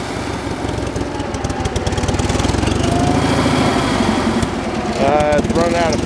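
Old Frick sawmill engine running rough as it runs low on fuel, a loud steady throbbing drone with uneven pulses, mixed with mechanical clatter and brief squealing tones near the end.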